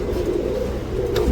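Punjabi Malwai umbrella pigeons coo softly and steadily at close range, a low continuous murmur with a brief chirp near the end.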